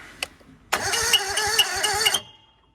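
A Honda GX690 gasoline engine, choke on, sputters to life after a brief clatter, running roughly and unevenly for over a second before cutting out abruptly.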